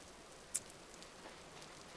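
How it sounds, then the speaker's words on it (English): Soft, steady rain falls in the video game Vintage Story, a faint even patter with one small tick near the start and no voices. "Oh, it's raining."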